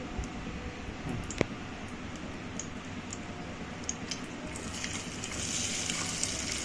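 Cinnamon and cloves sizzle faintly in hot oil in a home kitchen, a soft continuous hiss with a few small ticks and one sharp click, with no talking.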